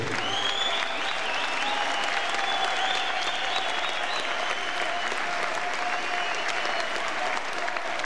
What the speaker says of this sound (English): please, a big round of applause for both these warriors